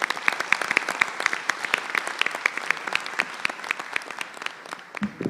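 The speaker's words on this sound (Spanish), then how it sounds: "Un aplauso para todos ellos, por favor." An audience at a national event on linguistic reconstruction applauds, with a thin, steady patter of individual claps nearby that keeps an even level throughout.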